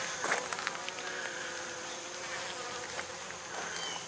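Honey bees hum continuously around a nuc hive with a screened bottom board near dusk, a soft, steady buzz with occasional louder passes of individual bees near the listener.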